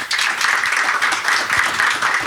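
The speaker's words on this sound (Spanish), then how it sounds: "Yo pienso que él se merece otro aplauso." An audience applauds Professor Aguilera at an academic talk, with dense, steady clapping from a crowd in a room that swells slightly in waves.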